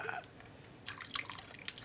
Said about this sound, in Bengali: আবার একটু দিব আপনার এই যে কেওড়া জল